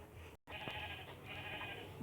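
A sheep bleats on a farm, with a sustained wavering cry rising after a brief silent gap and holding for over a second, moderately close, with no talk over it.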